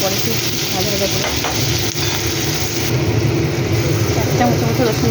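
A spatula scrapes and stirs onions frying in a pan for a soybean recipe, loud close sizzling with scraping strokes throughout.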